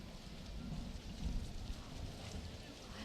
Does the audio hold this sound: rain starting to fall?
yes